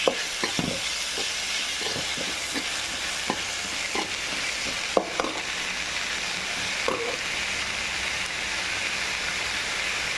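Cauliflower frying in a pan as a medium tomato goes in, with a steady sizzle and repeated scraping stirs and utensil clicks spread across the clip.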